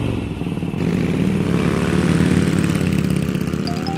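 Motorcycle engine running steadily and loudly as the bike is ridden off, a continuous close rumble with no talking.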